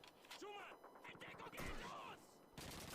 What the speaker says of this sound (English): I can still hear shooting and firing